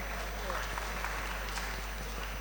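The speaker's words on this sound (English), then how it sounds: "Please give her a round of applause." Audience applause at a tech employability panel, a steady burst of clapping from a crowd that continues for the whole moment, heard over a low hum.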